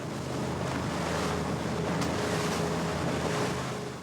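Rough wind and choppy waves on Lake St Clair buffet a fishing boat, a steady broadband roar of gusts and splashing water with wind rumbling across the microphone, loud and constant throughout.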